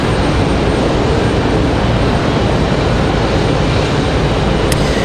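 Alaska Airlines Boeing 787 Dreamliner jet in a new livery at Raleigh-Durham International Airport, a loud, steady broadband engine roar sustained throughout without letting up.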